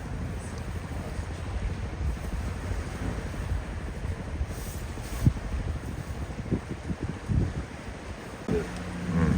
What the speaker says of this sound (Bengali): আজকে কুয়াশা কিছুটা কম, তবে নদী সাগর খুবই উত্তাল, প্রচুর বাতাসও হচ্ছে।